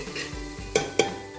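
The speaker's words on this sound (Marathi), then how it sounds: "मसाला छान 2 मिनटं परतून घ्यायचा।" Turmeric and mutton masala are sautéed in a pan for a mutton rassa, with a low sizzle of oil under two sharp scrapes of a spoon against the pan and softer stirring between them.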